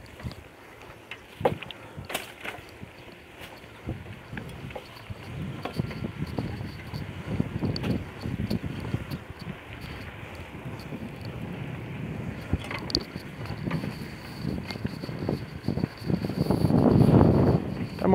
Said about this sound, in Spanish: Mira, casi hizo como un remolino de viento.